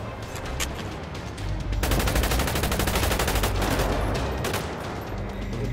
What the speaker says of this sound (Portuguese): Polícia tá louca, atirando na gente sem motivo